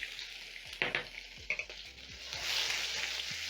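An onion sautés in flavoured oil left from frying smokies, giving a steady sizzle broken by a few sharp stirring clatters in the pan, close and moderately loud, with no voices.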